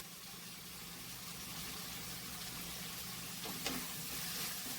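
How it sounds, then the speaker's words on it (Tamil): Chili powder frying in a Tamil curry base in a pan, a low continuous sizzle and faint simmering hiss with a brief stir or utensil tap near the middle, steady and fairly quiet throughout without speech. "மிளகாத்தூளுக்கு பச்சை வாசனை போகிற அளவுக்கு நல்லா வதங்கிடுச்சு."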